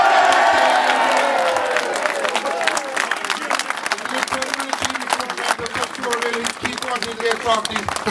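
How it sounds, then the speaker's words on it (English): Applause for Dermot Lynch at a North Cork junior hurling championship celebration, a loud crowd clapping and cheering close by, strongest at the start and then settling into sustained clapping. "I'd like to give a good round of applause for Dermot Lynch for winning his third."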